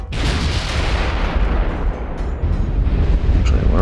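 Battleship main guns thunder in Ultimate Admiral: Dreadnoughts, a loud, sustained booming roar of heavy naval artillery that rolls on without a break, with a couple of sharper blasts punching through the rumble.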